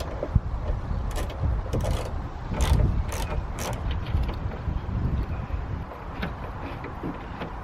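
Bolts are being removed to take a Mugen spoiler off an EP3 Civic Type R, heard as close metallic clinks and ratcheting clicks in short irregular bursts over a rumbling outdoor background, with no speech.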